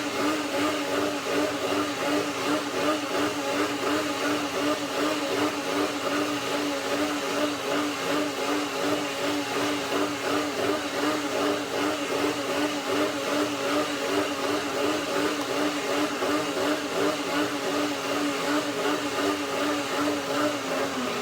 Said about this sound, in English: need the blender to blend the almonds more